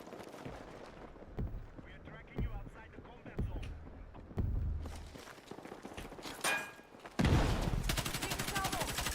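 Gunfire in the Battlefield 6 video game on the Eastwood map, sharp shots in scattered bursts and a heavier sustained volley toward the end, with people talking over the action.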